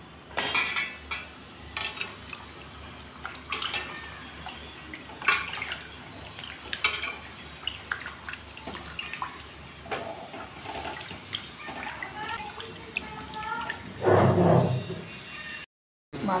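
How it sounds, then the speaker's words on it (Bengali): Pabda fish rinsed with salt in lukewarm water in a home kitchen, with soft splashing and clinks of a metal bowl or dish throughout, growing louder near the end. "সেটাকে দূর করার জন্যই আমি একটু হালকা গরম জলে মাছগুলোকে ধুয়ে নিচ্ছি"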